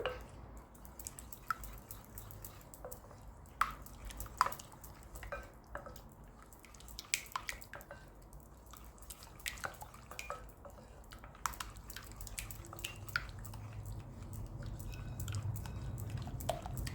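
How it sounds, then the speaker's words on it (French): A spoon works quiche filling in a bowl with soft wet clicks and squelches in an irregular rhythm, close and quiet, with no talk. "On mélange bien."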